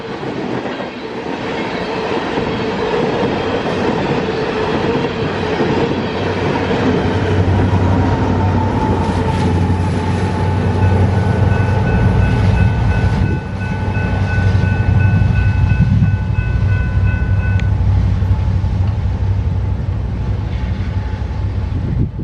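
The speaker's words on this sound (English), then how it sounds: "It's another one of those TVAX coal trains, heading back to the mine for another load of coal." A BNSF coal train of empty cars heading back to the mine rolls past the Osceola depot on the Ottumwa Subdivision in Iowa, a loud, steady rumble with clattering wheels and brief squeals, close and sustained.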